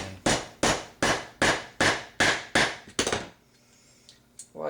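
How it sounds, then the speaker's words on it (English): A hammer drives a punch to tap a pin into a Stevens 107B/94H shotgun receiver, seven sharp, evenly spaced metallic taps close by, then near silence. "get the right size punch and just tap this pin all the way in."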